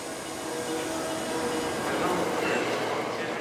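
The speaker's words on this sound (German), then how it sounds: "Einfahrt Haraku Express, der moderne Zug zum Flughafen." Haruka airport express, a modern train to the airport, pulling into Kyoto station with a steady, broad rolling rumble of rail traffic and station noise throughout, moderately loud and fairly close.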